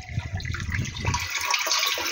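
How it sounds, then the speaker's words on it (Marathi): Water pouring from a hose or pipe into a 200-litre drum on a brinjal farm, a steady rushing splash lasting a couple of seconds with no talk. "200 लिटरचा ड्रम. त्यामध्ये आपण पाणी घेत आहे."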